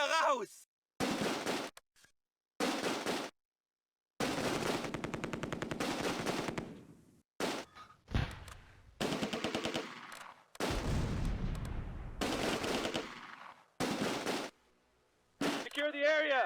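Machine guns fire repeated bursts in the World War II strategy game Close Combat: A Bridge Too Far, loud and rattling. The bursts are split by short gaps and mixed with other gunfire and some voices.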